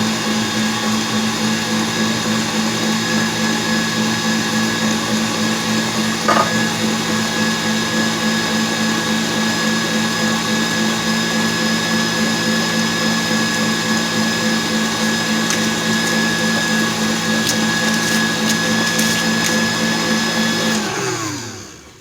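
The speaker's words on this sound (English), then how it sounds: "So yeah, this has been blended enough." A blender runs steadily for about twenty seconds, mixing banana pudding cupcake batter in a kitchen, giving a loud, even motor whir with a brief clunk partway through before spinning down to a stop.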